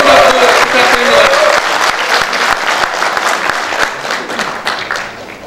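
Loud, sustained applause from the audience at a rally of regional council members calling for decentralization, a thick roar of clapping that opens strongest, then thins slightly into scattered sharper claps.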